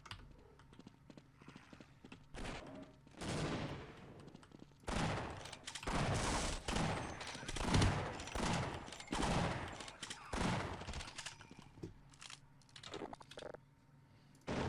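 A shotgun fires repeatedly in the Half-Life video game, with a series of sharp, punchy blasts in uneven rhythm through the middle of the stretch. The sound is moderately quiet, with game ambience between the shots.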